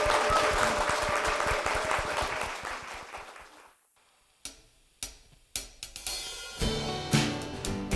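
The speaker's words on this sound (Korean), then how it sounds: "여러분 큰 박수 부탁드립니다" A church congregation claps for a woman who has just given a testimony. Dense applause fills the first four seconds, then thins out. A few scattered sharp knocks and clicks follow after a brief quiet.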